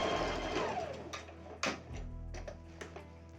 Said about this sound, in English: So we're going to do a few back stitches right here so that we can close off this stitch.